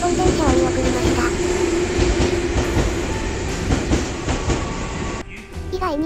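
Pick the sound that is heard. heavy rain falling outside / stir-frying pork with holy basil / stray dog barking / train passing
train passing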